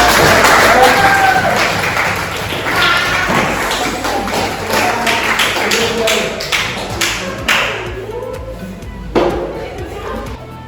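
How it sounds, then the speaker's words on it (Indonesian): Classmates clap for a presenting group in a classroom, a busy patter of hand claps and desk thumps running throughout, with voices mixed in as the clapping tapers toward the end. "Dan kita beri tepuk tangan untuk kelompok."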